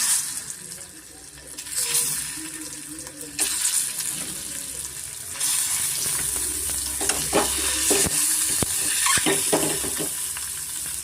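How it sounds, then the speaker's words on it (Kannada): Eggs frying in oil with turmeric for a green egg curry, a steady close sizzle with intermittent scraping and stirring clatter, no voices. "ಸ್ವಲ್ಪ ನಾವು ಮೊಟ್ಟೆನ ಚೆನ್ನಾಗಿ ಫ್ರೈ ಮಾಡ್ಕೊಳ್ಳೋಣ"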